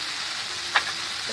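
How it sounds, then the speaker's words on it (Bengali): Pieces of meat go into a pan of fried onions with ginger paste, raising a steady close sizzling hiss with a brief sharper burst partway through. "এদিকে পেঁয়াজটা হালকা ভালো হয়ে গেছে, মাংসগুলো দিয়ে দিতেছে।"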